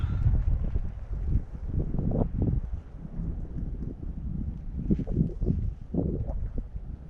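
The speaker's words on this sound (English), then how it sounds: "See that wind? It's really cold." Cold wind blows across a backpacking camp in a mountain wilderness, a continuous low rumbling buffet with gusty swells that sounds close and moderately loud, with no voices.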